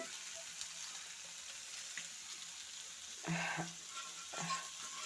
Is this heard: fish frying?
yes